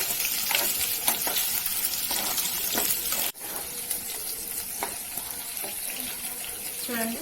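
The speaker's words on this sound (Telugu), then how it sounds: "పచ్చిమిరపకాయలు ఇలా వేగినప్పుడు" Green chillies fry in a pan for mint and coriander chutney, giving a steady close sizzle with faint stirring clicks and a brief knock partway through.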